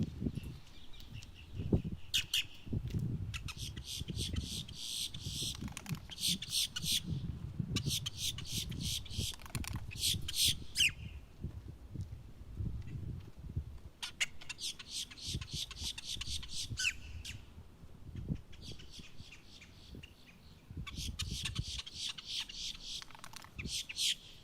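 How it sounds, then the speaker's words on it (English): A grackle perched on a post, recorded on a cell phone, gives repeated harsh rattling squawks in bursts over low background rumble. "I saw a grackle just sitting on a post and he was just a yelling"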